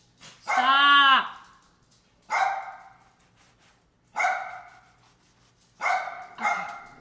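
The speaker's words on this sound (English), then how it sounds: "I'm just going to take a minute and find out what my dogs are barking at" Several household dogs bark in four separate bursts spaced a second or two apart, the first a longer, louder yelping bark, all fairly close in a quiet kitchen.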